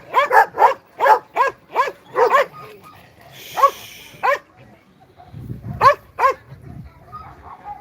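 A black working-line German shepherd barks loudly and close in a rapid series of sharp barks, pauses, then resumes with a few more, with low voices murmuring in between.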